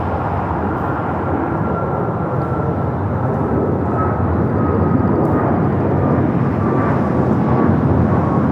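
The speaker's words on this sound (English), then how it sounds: "This takeoff is American Airlines 2546 taking off to Mexico City on the MAX 8" An American Airlines Boeing 737 MAX 8 jet takes off at LAX with a loud, sustained roar of engine noise that swells slightly toward the end, heard from outside near the runway.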